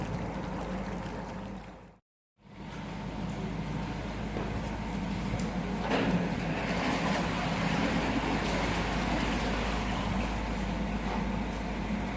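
Canal boat engine idling steadily as the boat pulls into a lock on a city canal, a continuous low rumble with water and wind noise around it, briefly cutting out near the start.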